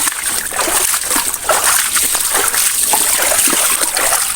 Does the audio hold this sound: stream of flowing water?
yes